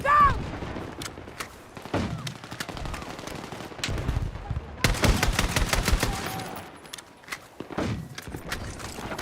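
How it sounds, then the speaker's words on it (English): A mortar and gunfire go off in a multiplayer shooter video game. Dense, rapid automatic bursts and booming impacts keep coming, with a heavy barrage in the middle, while players shout over the fire. "Somebody literally has the mortar out."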